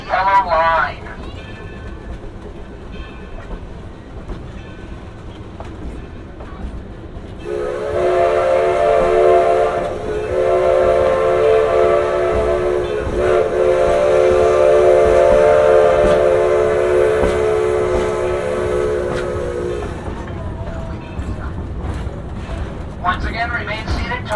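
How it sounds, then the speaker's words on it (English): A long, steady steam whistle blast from the Sugar Pine steam train in Yosemite, sounding for roughly twelve seconds over rumbling rail noise as the train rolls into the station. "When we pull into the station, there will be one short blast on the whistle"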